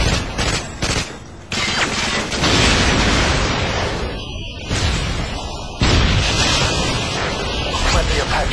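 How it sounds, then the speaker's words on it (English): Loud, dense video game explosions and gunfire from a Predator missile strike in a search-and-destroy match, roaring continuously with sharp booms and bursts throughout. "Friendly Predator missile inbound."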